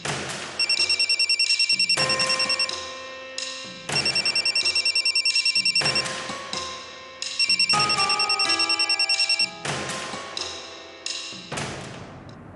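A telephone bell rings in repeated bursts, about five rings separated by short pauses, loud and close, with no talking.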